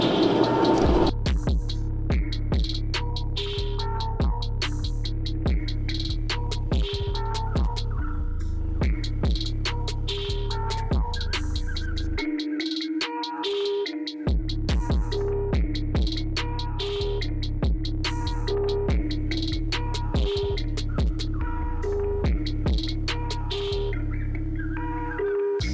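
A hooded hair dryer gives a steady electric motor hum with faint clicks over it, cutting out briefly midway and then resuming at the same level.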